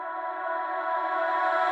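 Reversed reverb sample used as a transition in a UK garage track made in FL Studio: a smooth, sustained tonal wash that slowly swells in loudness toward an abrupt end, alone without talk.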